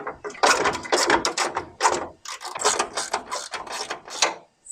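A ratchet with an extension undoing long 12mm radiator bolts on a 1971 Toyota Celica TA22, rapid close clicking in bursts of several strokes with short pauses between.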